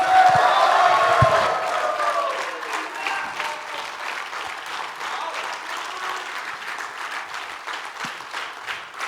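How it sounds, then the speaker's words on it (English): An audience at a live talk show bursts into loud, sustained applause, dense clapping that eases after a couple of seconds and keeps going at a lower level to the end. "We need a louder round of applause"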